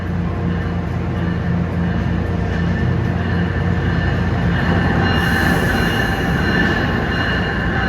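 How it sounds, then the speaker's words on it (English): Amtrak train 20, the Crescent, arriving on track 2 at Newark Penn Station, a steady loud rumble of rolling railcars with wheel hum and a faint high squeal toward the end. "Approaching on track 2 is train 20, the Crescent, from New Orleans to New York."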